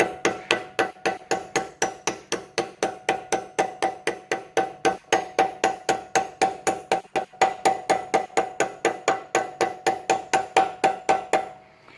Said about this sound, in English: So I just pop this on and just go around with a hammer.